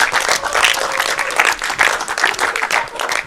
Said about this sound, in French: on peut applaudir très fort pour Believe